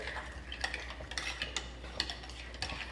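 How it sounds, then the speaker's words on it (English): A spoon clinks and scrapes steadily in a bowl while milk and sour cream, blended earlier, are stirred together for soup, with repeated light taps over a low kitchen hum and no talking. "all I'm doing is stirring it up with the milk and the sour cream that we blended together earlier"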